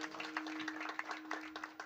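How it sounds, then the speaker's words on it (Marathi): An audience at a Marathi kirtan claps together in a quick, even rhythm, quiet and somewhat distant, with a steady low hum running beneath the claps. "सिद्धेश्वर महाराज टाळ्या वाजवा बरं एकदा."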